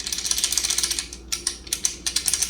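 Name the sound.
plastic air intake part rattling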